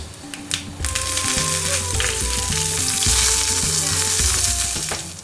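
Mustard seeds, urad dal, broken dry red chilies and curry leaves crackle and sizzle loudly in hot oil for a coconut chutney tempering, close up and steady with sharp pops early on.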